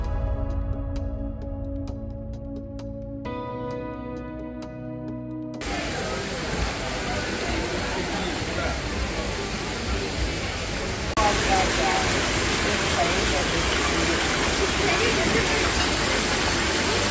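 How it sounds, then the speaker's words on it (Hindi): A waterfall at a village restaurant in Mangalore gives a dense, steady rush of falling water that grows louder partway through, after a short stretch of soft music at the start. "स्पेशल झरना।"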